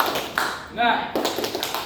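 A classroom group claps the 'tepuk semangat' spirit clap in a few quick, sharp bursts, with voices chanting along over the claps.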